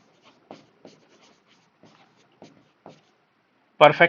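Chalk or marker strokes on a classroom board during an economics lecture, a series of short scratchy taps spaced across the clip, ending in a louder burst.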